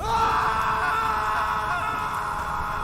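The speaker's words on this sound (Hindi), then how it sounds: "दर्द की मारी मेरी जान निकल गई और मैं जोर से चीख उठा।" A man lets out a long, sustained scream of pain, loud and continuous throughout, used as a horror-story effect in a scary hospital tale.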